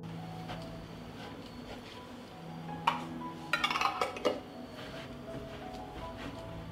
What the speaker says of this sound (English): Close the jars with clean and new lids.